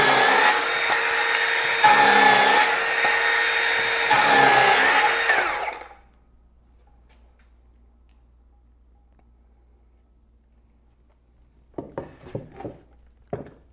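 Power saw fitted with a Spyder Tarantula blade cutting through a 2x4 wood stud, a loud rough sawing run of about six seconds, followed by near silence and then a few faint knocks and handling sounds.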